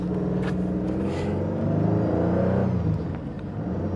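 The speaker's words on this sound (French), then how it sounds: "Voilà le beau petit bruit du moteur." A 1971 Citroën SM Maserati engine revs up close, its pitch climbing as it accelerates, then settles briefly before pulling again in third gear.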